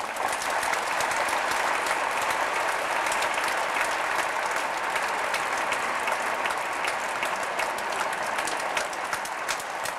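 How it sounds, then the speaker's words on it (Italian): Audience at an evening lecture on Dante in Italy claps warmly, a dense, sustained round of applause from a large seated crowd, steady and even throughout with no voices over it. "gli rinnoviamo il nostro ringraziamento con un applauso"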